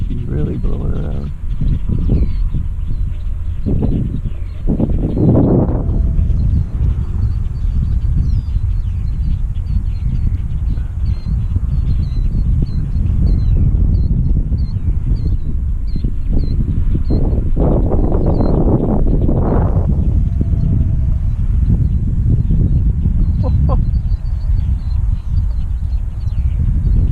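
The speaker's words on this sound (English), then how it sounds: "It's pretty windy out here, guys, so" Strong gusty wind buffets the microphone at an RC plane flying field, a loud continuous low roar with surges throughout, while someone talks over it at intervals.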